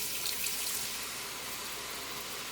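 Water poured steadily into a bubbling pot of flour and pot roast drippings, a constant close hissing, splashing rush with no pauses over its short length.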